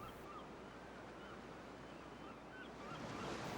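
Ocean waves break and splash foam upward against something just below the surface, a steady rushing surf wash with a swell of louder spray near the end, heard alone.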